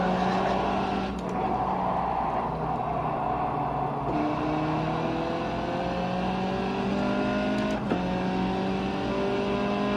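Race cars in the iRacing sim launch from the start at the Nürburgring GP circuit, engines roaring and climbing through gears with rising pitch sweeps and quick shifts, a loud continuous pack of motors.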